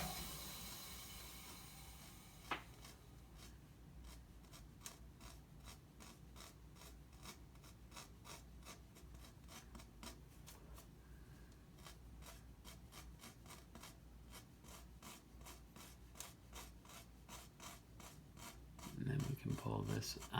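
The thin edge of a paintbrush scratches repeatedly across paint on a tiger painting: rapid, faint, rhythmic rasping strokes close up, with a louder brushing flurry at the end.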